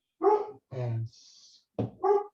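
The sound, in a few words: dog barking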